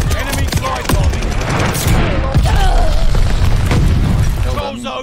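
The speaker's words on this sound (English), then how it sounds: "Enemy glide bombing." Bombs from an enemy glide-bombing run explode in Call of Duty Vanguard: loud, dense booms and crackling blasts mixed with gunfire, continuous and close, with a voice speaking over the din.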